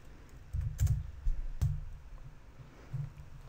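Computer keyboard typing an IP address into a browser: a brief burst of close, soft key clicks and taps in an irregular rhythm, with a short pause before a few final keystrokes, with no voices.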